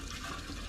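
Gasoline is poured into a Chevrolet Tahoe in a brief, close liquid gush that swells louder at the end, with no talking.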